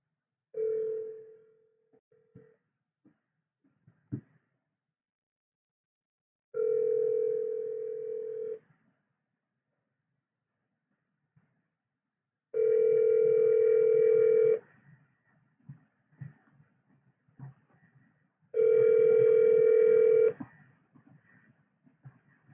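An outgoing telephone call rings repeatedly in a handset, with long ringback tones separated by pauses and some faint clicks, no one answering.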